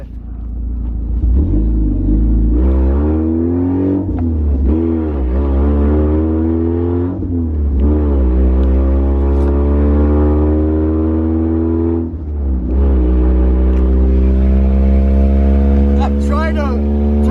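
Mazda Miata engine with loud aftermarket exhaust headers, revving up and down repeatedly in a rough, droning roar that stays loud and close throughout, with brief dips between throttle blips.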